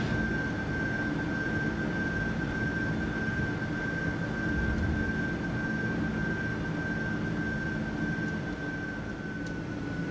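Airbus A350 jet engines at takeoff in a flight simulator game, a steady broad roar with a sustained high whine held evenly for about ten seconds, with no voices.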